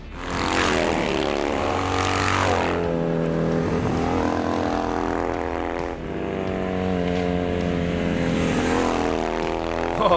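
A Triumph Thruxton café racer with an oversized engine roars through canyon corners, its exhaust loud and close. The engine revs climb and fall in two long sweeps.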